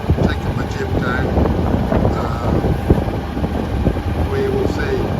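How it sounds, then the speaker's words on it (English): Steady wind roaring and buffeting at sea aboard a small sailboat sailed single-handed across the Gulf Stream, a constant loud rush with water noise beneath. "Wind's still on the nose, that's not good."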